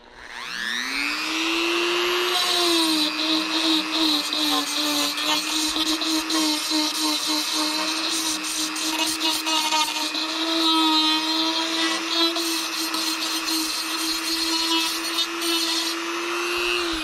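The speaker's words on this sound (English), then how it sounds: "Now I'm going to Dremel out some of this foam and test fit the eye." Dremel rotary tool grinding foam on a largemouth bass fiberglass replica, a high whine that spins up quickly and then holds steady, loud and close, with no talk.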